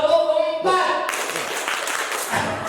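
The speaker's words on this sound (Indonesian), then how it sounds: "Tepuk 4-nya 2 kali kanan, 2 kali kiri." Hands clap in a rhythmic pattern of four as part of a group clapping routine, alongside voices, with a tonal sound early on before the broadband claps take over.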